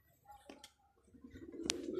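A pigeon coos softly in short bursts, with faint outdoor background noise and a brief sharper call near the end.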